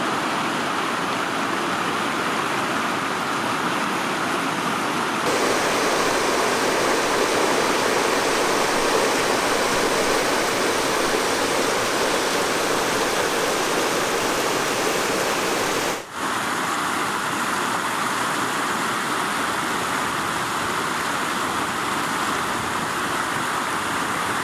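Spring-fed creek in the Ozarks, water welling up from the creek bottom and flowing in a loud, close, continuous rushing wash with no voices.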